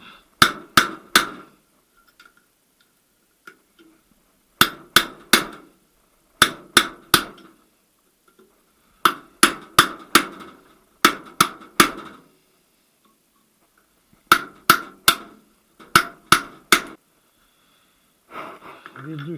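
Bolts are tightened during a manual gearbox repair on a VAZ 2108-2115, with loud, close, sharp metallic clicks coming in quick bursts of three, repeated with short quiet gaps.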